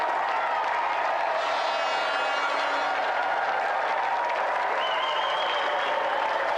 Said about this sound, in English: So let's have another round of applause for a brilliant impromptu challenger